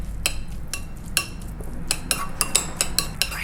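A utensil clinks and scrapes against a bowl while sesame oil and Duke mayonnaise are mixed for a spicy salmon topping, with about a dozen sharp taps in an uneven rhythm, close and clear.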